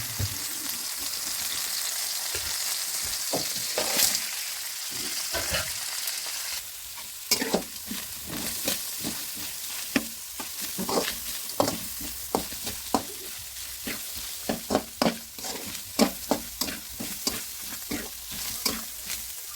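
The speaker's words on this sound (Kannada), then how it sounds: "ನನಗೆ ಇದನ್ನೆಲ್ಲ ಸ್ವಲ್ಪ ಎಣ್ಣೆ ಹಾಕಿ ಅದರಲ್ಲಿ ಫ್ರೈ ಮಾಡ್ಕೊಳ್ತೀನಿ." Ingredients for chickpea sambar fry in a little oil with a continuous close sizzle, broken by frequent sharp scrapes and clinks of a spoon stirring the pan.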